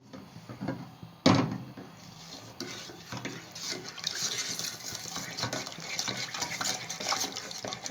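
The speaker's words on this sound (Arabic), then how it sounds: "وهنقلب المكونات مع بعض لحد ما تغلي" Butter and oil heating in a pot on a gas stove for choux pastry are stirred with a utensil, making scraping and clinking against the metal, including one sharp knock early on, over a faint bubbling hiss.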